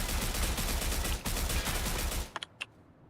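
Rapid, dense gunfire from a video game shootout roars continuously for about two seconds, then breaks off into a few sharp, isolated shots against near silence.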